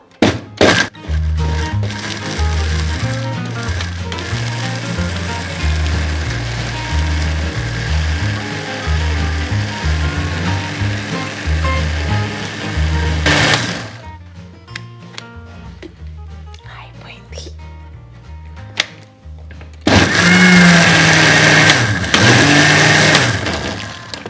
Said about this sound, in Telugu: మళ్ళీ ఇంకొకసారి మిక్సీ పట్టుకుందాం